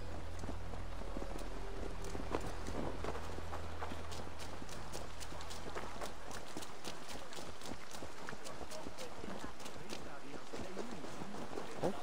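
Horse hooves clip-clop in a steady, rapid rhythm through Assassin's Creed Valhalla, set over a low ambient hum and rain-like hiss that persist across the scene.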